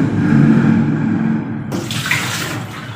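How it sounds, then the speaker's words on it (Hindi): Water pouring steadily into a large tub in a home kitchen during homemade butter making, a continuous splashing rush that brightens partway through, close and fairly loud with no talking. "अभी मैं बड़े टब में पानी लूँगी"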